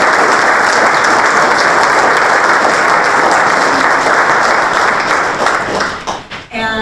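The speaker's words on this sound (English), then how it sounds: "we'd like to give a big round of applause to our new inductees in our second year of service" An audience at a National Junior Honor Society induction ceremony gives new inductees a loud, sustained round of dense applause that thins and breaks into scattered claps in the final second.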